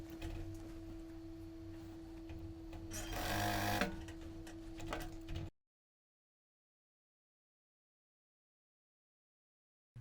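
A sewing machine stitches a label on a shirt collar with a steady whirring hum that swells briefly louder in the middle, then stops, leaving silence.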